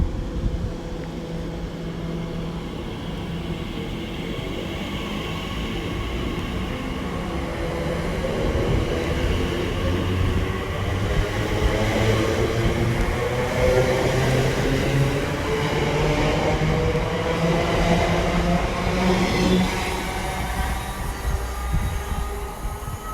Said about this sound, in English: It'll be the TfL Rail service to London Paddington.